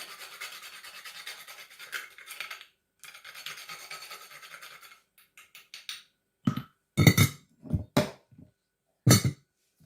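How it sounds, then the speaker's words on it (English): Whole nutmeg grated onto pie pastry, first in a few longer raspy scraping strokes, then in short, sharper, louder rubbing strokes with brief pauses between them, close up and without talk. "is grate a little bit more nutmeg onto the pastry."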